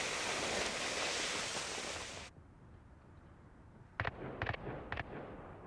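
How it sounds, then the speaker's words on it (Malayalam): Explosions from bombs in the Call of Duty Mobile video game: a loud sustained roar of blasts that cuts off abruptly, followed after a quiet gap by three short sharp bursts, with no talking. "എടാ ബോംബ് എല്ലായിടത്തും ബോംബ്"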